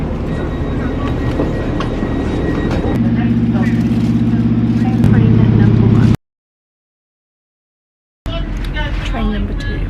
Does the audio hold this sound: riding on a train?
yes